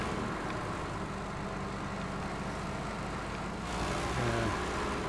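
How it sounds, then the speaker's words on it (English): A truck engine in a video game, heard from far off: a steady, muffled rumble that holds evenly throughout, swelling slightly near the end, with no voices. "you're so far away from the truck that the truck sound actually reduces."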